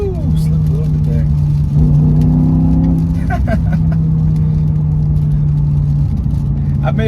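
A BMW M6 V10 coupe revs and accelerates, its engine note holding loud and close with shifting pitch, while a person talks over it.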